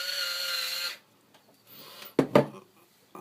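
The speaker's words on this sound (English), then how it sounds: "Actually, I'm going to use the screwdriver." An electric screwdriver drives screws into the plastic of an MST FXX-D S model car kit, a steady high whir for about a second, then a quiet pause and two short sharp bursts near the end.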